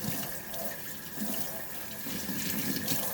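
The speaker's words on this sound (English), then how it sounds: "you're just going to rinse the roots" Tap water running steadily into a sink while dirt is rinsed off hoya plant roots, a continuous close splashing hiss without speech.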